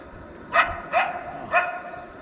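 A coyote (Canis latrans) gives three sharp barks spaced about half a second apart, fairly close and clear against quiet outdoor background noise.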